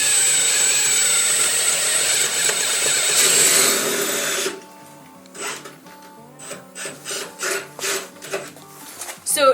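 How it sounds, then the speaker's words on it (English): Drill boring through a Porsche 914 front sway bar mount with a larger bit, a loud steady rasping grind for about four seconds, then stopping and giving way to short scattered bursts of lower-level noise. "now I'm going to take a bigger drill bit and I'm going to be going through from the opposite side"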